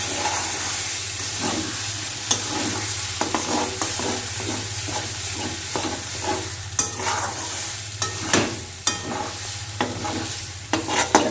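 Chopped banana flower mixture fries in a pan while a spoon stirs it, bringing steady sizzling and hiss broken by repeated sharp scrapes and knocks against the metal, up close with no talking.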